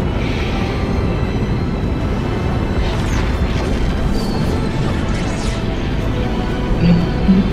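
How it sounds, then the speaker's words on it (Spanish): Continuous heavy rumbling and crashing impacts roll on without pause, dense and loud, as a meteor and rockets crash down in Fortnite. "Están cayendo 6 cohetes y el meteorito hacia el orbe."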